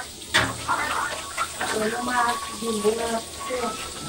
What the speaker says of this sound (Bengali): মাছ ভাজি করার কাজ চলতেছে, মাছ ভাজি হচ্ছে